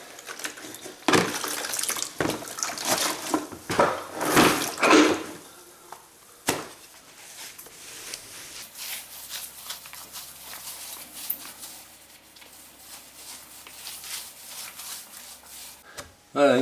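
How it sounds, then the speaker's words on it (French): Scrubbing brush working hot water over travertine baseboards, giving bursts of wet scraping and splashing in the first seconds, then a quieter stretch with faint rubbing and a few sharp knocks, ending in a louder scrape. "les petits coups de balai à récurer juste à l'eau chaude"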